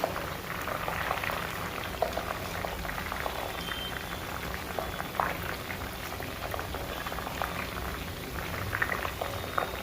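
Papdi gathiya frying in a large batch of hot oil at a farsan shop, a dense, steady bubbling hiss that holds at an even level throughout, with no talking.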